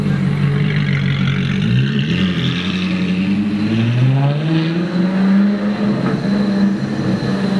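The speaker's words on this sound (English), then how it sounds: "So this Aventador is like the most insane sounding car." A Lamborghini Aventador supercar accelerates hard through town, its loud engine note climbing in pitch through gear changes, close and roaring throughout.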